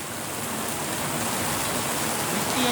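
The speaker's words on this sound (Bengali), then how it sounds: "অনেক জোরে বৃষ্টি কেউ বাড়িও যেতে পারছে না" Heavy rain pours down steadily, a dense, loud, continuous wash of drops drumming on surfaces with no breaks throughout.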